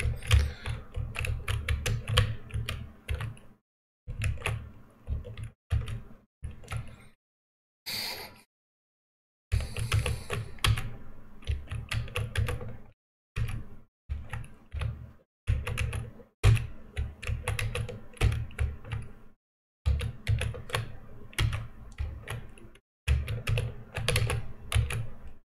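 Rapid typing on a new computer keyboard during play of the platform game I Wanna Be The Guy, with dense clattering key bursts broken by brief pauses throughout, close and steady.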